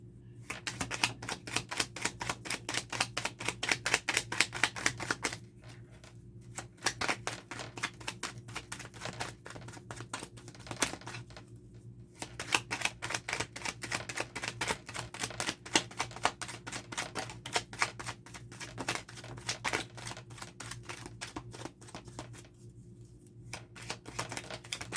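Tarot cards are shuffled and pulled in a long run of rapid, crisp riffling patter, close and steady, broken by a few short pauses, with no talk over it.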